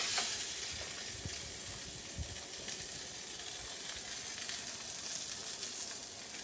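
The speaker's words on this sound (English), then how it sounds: "Let the salmon cook in the sauce." Salmon simmering in hot sauce for a Tuscan seafood dinner gives a close, steady bubbling sizzle with faint crackles throughout, with no talking.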